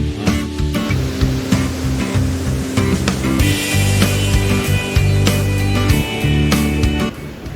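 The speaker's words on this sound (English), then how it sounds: "we set out to catch some waves." Ocean surf on the coast of Baja California Sur, a steady, dense roar of breaking waves heard close and loud throughout, with no voices.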